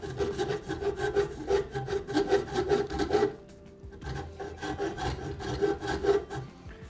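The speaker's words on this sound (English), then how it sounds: "So I got it here in the vise using this rasp." A coarse rasp grates back and forth along a wooden guitar neck clamped in a vise, making rapid, rhythmic scraping strokes close by. After a brief pause the strokes start again, a little quieter.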